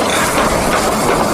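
A toy Thomas-style tomato-themed train runs with a steady, busy mechanical whirring and clatter, close and continuous throughout, with no talking over it.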